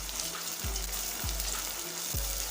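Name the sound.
sizzling garlic-ginger paste and onion frying in a pan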